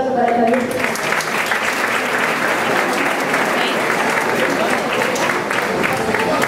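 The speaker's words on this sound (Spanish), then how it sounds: "Un aplauso para Javier." An audience claps loudly and continuously at the presentation of a neighbourhood festival in Novelda, with a brief voice at the very start under the dense applause.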